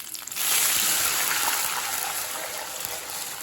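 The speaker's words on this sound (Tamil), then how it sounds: "அடுத்தது இதில் 3 கப் தண்ணி சேர்த்துக்கலாங்க" Three cups of water poured into a cooking pot with fried lentils, dried chilies and curry leaves: a sudden steady rushing gush close by that continues evenly and eases slightly toward the end.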